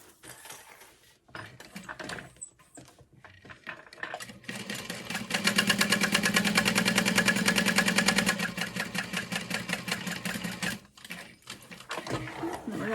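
A domestic sewing machine stitching a fabric bag, close and loud, with a rapid rhythmic mechanical whirr in a sustained run after a few short starts and stops, then shorter bursts as it back-stitches.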